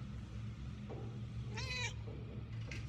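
A cat meows once, briefly and fairly clearly, over a steady low ambient hum in the video game Murdered: Soul Suspect, with a fainter second cry near the end.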